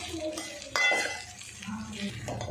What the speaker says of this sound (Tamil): இப்போ இதுக்கு தேவையான அளவுக்கு சால்ட்டு சேர்த்துட்டு இப்போ நல்லா கலந்து விட்டுக்கலாம்.